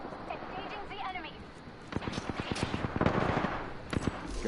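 Gunfire in the video game Apex Legends, rapid bursts of automatic shots crackling in quick runs with a few separate sharp reports, mixed with game sound and voices talking over it.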